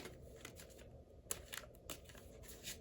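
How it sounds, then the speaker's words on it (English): Tarot cards that have grown stiff and hard to shuffle, riffled by hand in a quiet room, giving a few faint, brief papery bursts with no talking. "these cards are getting hard to shuffle"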